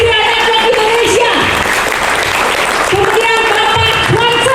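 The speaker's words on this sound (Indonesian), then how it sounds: "Kita tepuk tangan buat top leader kita, Bapak Abriel Tikanama Desi Network Indonesi" An audience claps together at a corporate network business event in Bandung, steady dense applause throughout while an amplified host speaks over it.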